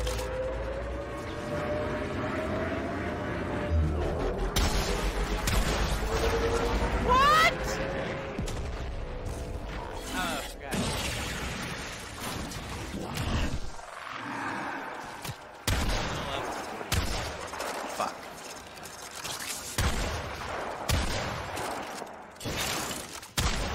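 Enemy gunfire in the sci-fi shooter Warframe: scattered bursts and sharp cracks over a busy game soundscape, loud and irregular, with a voice speaking at times.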